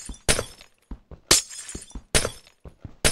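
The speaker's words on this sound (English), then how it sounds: "I'm just breaking all of the glass" Glass blocks shattering in Minecraft, a burst of crisp breaks repeating every half second or so, each a sharp crash followed by a short tinkling tail, loud and close with no voices.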